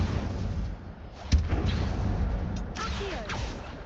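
An Incendio fire spell is cast in Hogwarts Legacy, giving a sharp, blast-like burst over a dense, rumbling game soundscape, followed by softer whooshing swishes.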